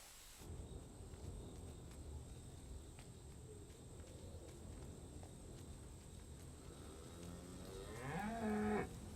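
A low, steady outdoor rumble fills the background before a single cow moos loudly near the end.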